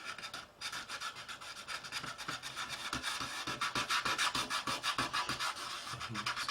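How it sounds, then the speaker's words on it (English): A blade scraping paint off a Trumpeter 1/32 scale Corsair model to make a chipped finish: continuous close, rhythmic rasping strokes, quick and steady throughout. "scrape them out, giving you a more lightly chipped effect"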